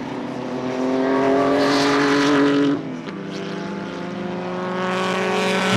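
Pre-war sports cars, including an MG and a Riley TT Sprite, heading out for a practice session at Silverstone, loud engines droning and rising as they pass close by, one engine note dropping sharply before others continue.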